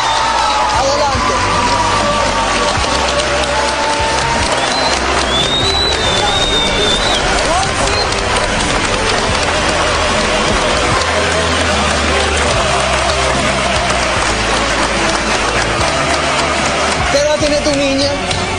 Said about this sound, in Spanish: Un fuerte aplauso para Raquel Albeniz